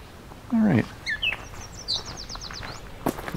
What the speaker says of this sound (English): There's a yellow warbler just saying up ahead here.